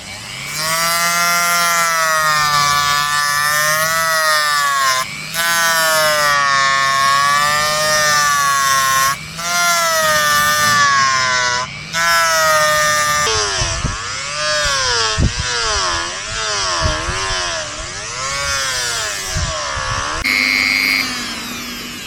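A wooden fishing lure spins on a lathe while rolled sandpaper sands it, making a loud, steady whine that rises and falls in pitch with short breaks as the paper is pressed on and lifted off.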